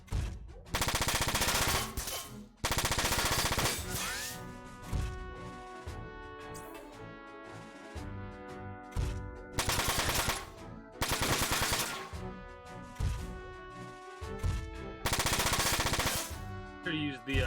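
Loud bursts of machine gun fire in the video game Front Mission 4, several sustained rattling volleys separated by short pauses, mixed with mechanical game sounds and music.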